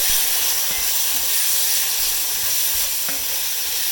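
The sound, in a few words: stirring tomato puree with toasted spices in a pan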